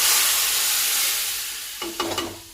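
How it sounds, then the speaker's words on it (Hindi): Loud hissing sizzle of hot oil tempering poured over cooked lentils (dal), fading out, then a few short clinks and scrapes of a utensil. "दाल के ऊपर तड़का डाल दीजिए"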